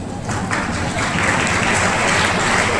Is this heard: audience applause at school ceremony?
yes